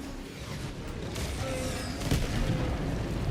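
Explosions in the video game Helldivers 2 boom through a dense, rumbling wash of battle noise, with a sharper blast near the middle and mechanical clatter underneath. No one speaks.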